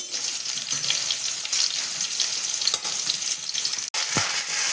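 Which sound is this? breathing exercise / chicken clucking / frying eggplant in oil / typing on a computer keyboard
frying eggplant in oil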